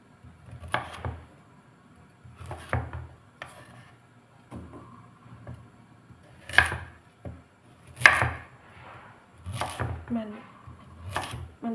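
A knife chops sweet potatoes into small pieces for a pot of sweet potatoes in ginger syrup, with sharp, irregular strikes on a board, some close and loud, with quiet gaps and faint talk between.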